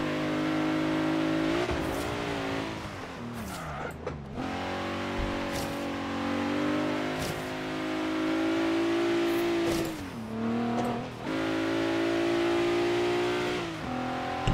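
Mercedes C63 AMG engine in Forza Horizon 3, revving hard and climbing through the gears with brief dips at the shifts, loud and continuous throughout with no voices.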